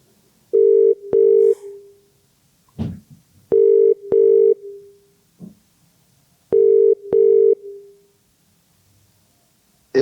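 Telephone ringback tone while another caller is being added to a call: three loud, evenly spaced pairs of ring bursts over about ten seconds, with a few soft clicks between them and no talking.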